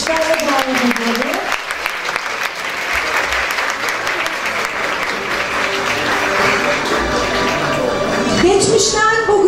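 An audience welcomes a speaker to the stage at a hospital's 25th anniversary event with loud sustained applause, dense and continuous across the whole stretch, with faint voices and a little music mixed in beneath the clapping.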